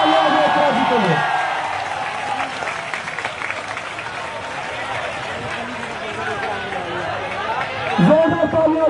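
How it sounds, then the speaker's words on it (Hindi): Crowd applause at a NEET protest at Jantar Mantar, sustained clapping and cheering mixed with chatter and a voice calling out over it, swelling again near the end. "जोरदार तालियां दो इकरा जी के लिए।"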